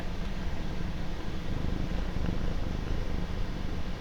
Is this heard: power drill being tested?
no